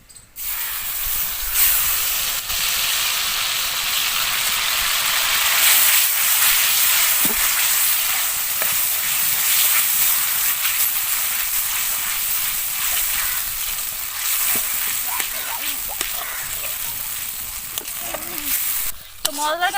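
Ground spice masala with cumin and green chilli frying in a pan for a dhaba-style chicken bharta. A loud, continuous sizzle holds for about twenty seconds, broken by the scrape and rustle of stirring.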